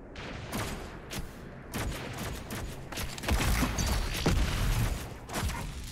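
Enemy gunfire in the shooter Doom Eternal, scattered bursts and cracks of shots mixed with heavy booming combat noise, fairly loud and continuous with shifting intensity.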